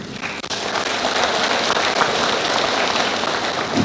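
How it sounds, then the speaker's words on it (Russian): An audience at a regional entrepreneurs' congress applauds in a dense, steady burst of clapping that holds evenly throughout, close and loud with no talk over it. "Давайте их поприветствуем аплодисментами."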